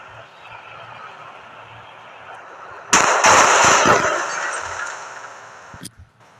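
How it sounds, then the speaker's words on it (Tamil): Rocket launcher fired in the Indian Bike Driving 3D mobile game: a loud, abrupt blast bursts over a quieter hum and decays over about three seconds before a final short crack. "இப்போ எல்லாத்தையும் சேர்த்து ஒரு ராக்கெட் லஞ்ச் சுடு"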